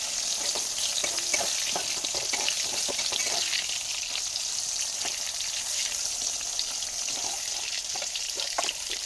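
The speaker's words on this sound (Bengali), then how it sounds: "হয়ে গেল আমার পটল ভাজা।" Pointed gourd (potol) slices fry in hot oil, a steady close sizzle scattered with sharper spits and crackles, running continuously with no one talking.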